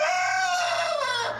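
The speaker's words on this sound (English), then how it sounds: "We have chickens." Chickens and a rooster on a farm in New Gloucester, clucking and crowing close by in one steady, continuous burst of calls that fades at the end.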